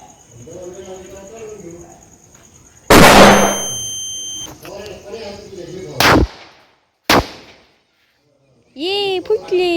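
Firecrackers set off outdoors, one loud sharp bang followed by two more quick cracks, near and abrupt, with a person talking before and between the blasts amid faint insect chirping.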